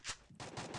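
Gunfire in a multiplayer shooter video game: a quick burst of sharp, close shots fired in rapid succession within under a second, with no voices.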